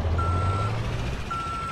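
Reversing beeps from a truck in Euro Truck Simulator 2 sound as two long steady tones over a constant low engine rumble. A gap separates the two tones.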